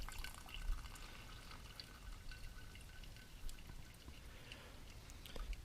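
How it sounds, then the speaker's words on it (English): Maple syrup drips steadily through a filter after boiling the sap, a soft continuous trickle of liquid with faint scattered drops, fairly quiet and close, with no voices. "We'll just let her drip for a while."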